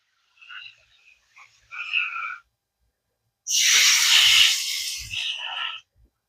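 A frog that lives under a potted hydrangea gives short raspy croaks and rattling calls close by, in several separate bursts with quiet gaps between them.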